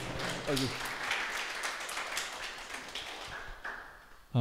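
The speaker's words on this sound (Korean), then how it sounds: "박사님께 다시 한번 큰 박수 부탁드리겠습니다." An audience at a small human-library talk applauds the guest speaker, a doctor: a continuous patter of many hands clapping that gradually thins out, with a voice faintly present.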